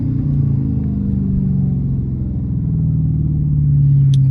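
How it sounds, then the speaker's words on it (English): A Dodge Hellcat V8 rumbles steadily from inside the car during a rev-matched downshift, its low, deep drone rising slightly toward the end, with no talking. "Literally hitting the gas while downshifting."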